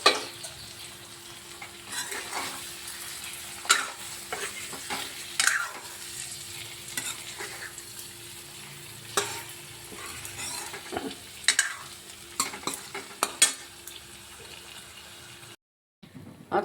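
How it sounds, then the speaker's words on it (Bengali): Eggs and bread frying in hot oil in a home kitchen: a continuous sizzle with scattered scraping and clinks of a utensil against the pan, close and fairly clear, with no talking. "তাই ডিম পাউরুটি ভেজে নিয়ে যাচ্ছি"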